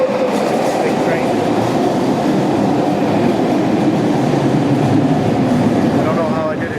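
A big train passing close by: a loud, continuous rumble with clattering wheels and faint high squeals running throughout.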